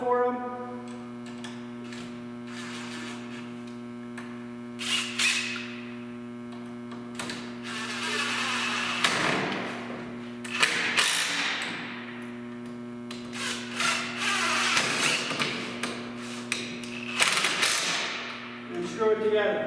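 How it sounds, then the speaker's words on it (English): Screws are driven into the wooden face frame of a night stand through pilot holes. A steady electric hum runs underneath, broken by short bursts of driver whirring and clicking and occasional knocks, with no one speaking. "now we have 2 screws that we're going to put in"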